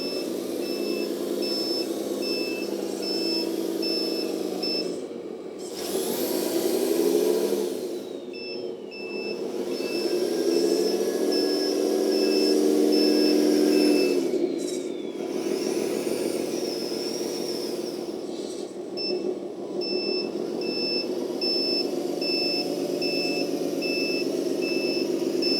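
An all-metal 8x8 off-road RC tractor truck backs up, its reversing alarm sounding in evenly spaced electronic beeps over a humming motor and whining drivetrain that swell and fade as it moves, with no talk.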